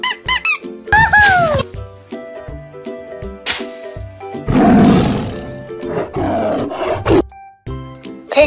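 A yellow toy tiger gives an electronic roar amid squeaky toy sounds and tinkling jingles, with loud bursts and musical tones coming and going over several seconds.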